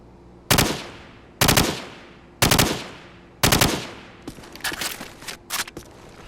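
Assault rifle in Call of Duty 4 firing four loud, evenly spaced short bursts from blind fire, each a sharp crack with a decaying tail, then a few scattered softer shots.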